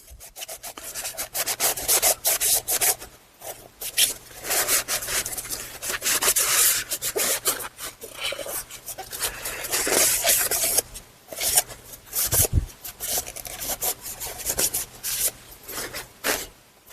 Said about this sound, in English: Then you want to thoroughly clean this up, and we're going to remove this old gasket here as well.